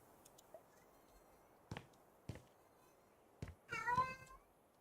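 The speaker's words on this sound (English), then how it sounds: "My cat's, like, getting crazy right now" A house cat meows a few times against a quiet room, with short bursts of scuffling as it acts up and a longer, wavering meow near the end.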